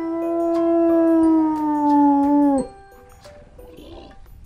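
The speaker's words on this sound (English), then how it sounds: "Meet the super clever hunters, the wolves." Wolves give a long, loud, sustained howl with falling pitch that lasts about two and a half seconds and cuts off abruptly. Quieter faint yips and whimpers follow, and no one speaks.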